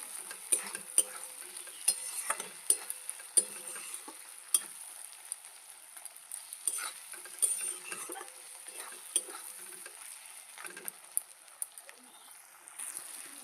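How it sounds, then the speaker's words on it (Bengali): Spice paste with tomato for a catfish curry is stir-fried in a pan, a soft sizzle running under repeated sharp scrapes and clicks of a spatula against metal, close and irregular throughout. "এই পর্যায়ে দিয়ে দেবো একটা টমেটো। আবারও সব ভালো করে কষিয়ে নেব।"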